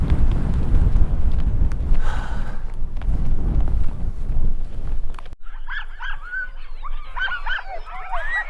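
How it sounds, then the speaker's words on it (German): Strong, freezing wind at Ilulissat Icefjord in western Greenland roars and buffets the microphone as heavy low rumbling for about five seconds. It cuts off abruptly, leaving quieter, scattered chirping sounds. "Aber durch den Wind ist es einfach nur saukalt."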